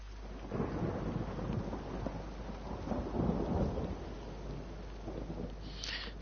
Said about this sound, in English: Sounds like there's a thunderstorm brewing.